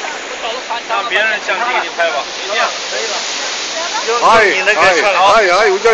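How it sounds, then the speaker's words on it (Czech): Waterfalls roar in a steady, broad rush close by, nearly drowned out by loud talking from a group standing in front of them. "Krásné vodopády."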